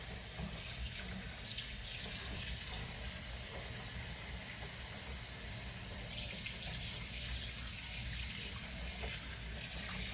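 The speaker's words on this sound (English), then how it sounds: "I'm filling my sink with water as well" Steady rushing of tap water pouring into a sink basin for hand-washing clothes, continuous and close, with no talking.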